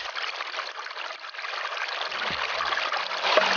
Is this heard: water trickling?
yes